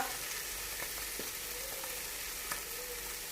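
Chicken chargha sizzles steadily in a hot kadai, a continuous loud frying hiss with occasional pops and the faint scrape of stirring.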